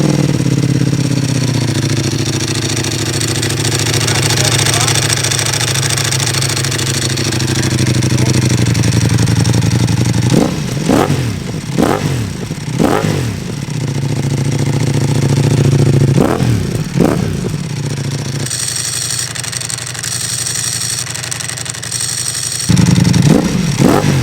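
A Ducati Multistrada V4 Pikes Peak with dry clutch and full Akrapovic exhaust idles with a loud rumble, then gets several sharp throttle blips whose revs spike and fall back, with clattering dry-clutch rattle between them, close up.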